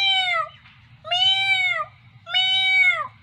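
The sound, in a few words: voice imitating a cat meowing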